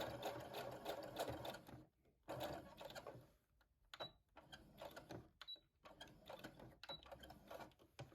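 A sewing machine back stitches over the end of a shirring seam in short rattling bursts separated by brief pauses, a few faint high clicks in between, close and quiet, with no talking.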